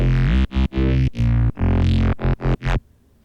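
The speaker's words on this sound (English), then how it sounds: "you can hear there's a pretty strong pumping effect on there." A bright, distorted synth loop with strong sidechain pumping, its level ducking sharply in rhythmic gaps several times over a few seconds before cutting off into a faint tail.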